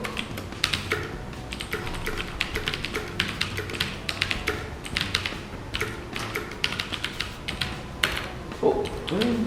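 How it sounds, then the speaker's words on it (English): Rapid clattering keystrokes on a new mechanical keyboard, a busy irregular run of sharp close clicks with brief pauses, heard alone without talk. "let's play a little bit more with my new keyboard"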